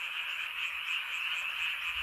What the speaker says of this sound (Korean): 지금 소리가 들리겠지만 물 잡힌 논에서 개구리가